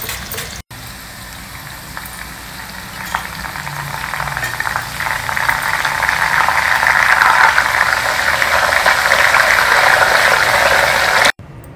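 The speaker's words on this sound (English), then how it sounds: "See, we have completed frying all the banana wafers." Raw banana wafer slices fry in hot oil in a traditional South Indian kitchen, a dense continuous sizzle and crackle that swells gradually louder over about eleven seconds.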